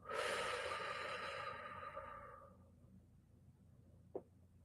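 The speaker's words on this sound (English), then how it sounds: "Slowly breathing out." Slow, audible exhale during a guided breathing exercise, a close breathy rush that fades gradually over a few seconds, followed by a brief soft sound near the end.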